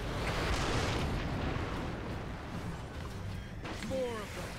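Grenades explode in the Warhammer 40K: Space Marine video game: a heavy, rumbling roar of blasts and debris, fairly distant and muffled, with a voice talking over the din.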